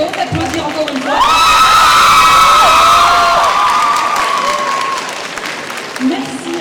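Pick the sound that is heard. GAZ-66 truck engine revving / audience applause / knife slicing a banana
audience applause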